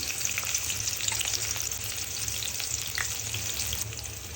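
Chopped onion fries in hot oil in a pan, giving a steady, close crackling sizzle with faint stirring scrapes and no talking.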